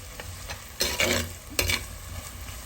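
Curry leaves dropped into hot oil over ground coconut and ginger for a Kerala-style ginger curry, giving two bursts of crackling sizzle with stirring scrapes between them, close and fairly quiet, no talking.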